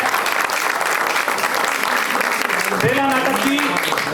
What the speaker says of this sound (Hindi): इस ऑडियंस के लिए एक बार जोरदार ताली